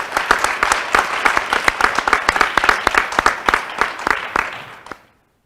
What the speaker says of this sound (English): let's give another round of applause to this year's inductees